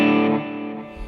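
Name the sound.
electric guitar with amp drive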